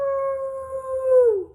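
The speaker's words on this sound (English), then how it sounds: "There's a lonely howl in the distance." A single long wolf howl carries from the distance, a steady sustained tone that holds and then slides downward at the end, clear and alone against a quiet background.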